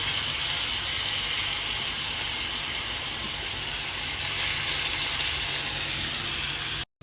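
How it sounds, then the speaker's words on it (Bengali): Chicken meat frying in hot oil in a kadai gives a steady, loud, dense sizzle that carries on unbroken and then cuts off abruptly near the end. "কড়াইতে তেল গরম হয়ে গেছে, এখন এর মধ্যে মাংসগুলো ভেজে নেবে ভালোভাবে।"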